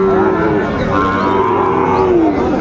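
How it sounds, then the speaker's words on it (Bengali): A Sahiwal bull moos in one long, loud, drawn-out call at a Noakhali cattle market, with crowd noise underneath. "শাহিওয়ালের ষাঁড়"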